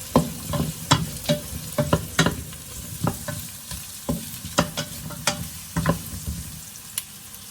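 Potatoes and carrot frying for chicken asado, a steady sizzle under close, irregular scrapes and clacks of a spoon stirring the pan.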